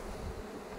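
A swarm of honeybees hums in a brief, steady low buzz close to the listener, droning evenly without interruption.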